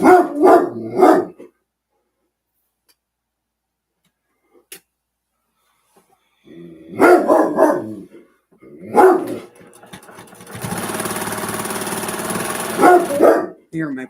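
A dog lets out loud, close barks in short clusters with silent gaps between, and a steady hiss and hum of background noise rises partway through while a person talks in between the barks.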